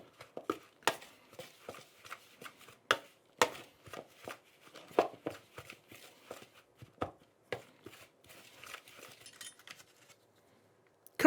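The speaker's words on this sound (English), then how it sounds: "Give them all a good mix together." Potato, grated parmesan and dried mixed herbs being mixed together in a bowl, giving a run of close, irregular clicks, scrapes and soft thuds that stop near the end.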